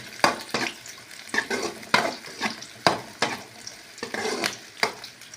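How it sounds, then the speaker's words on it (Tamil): Green chilies fry in a pan with a continuous sizzle, while a spoon stirs and scrapes in repeated clattering strokes close by. "பச்சை மிளகா பார்த்திங்களா எப்படி பொரிஞ்சிருக்குன்னு,"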